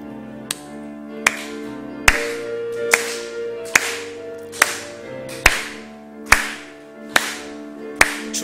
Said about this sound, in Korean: 박수 치면서 찬송하는 시간을 좀 갖겠습니다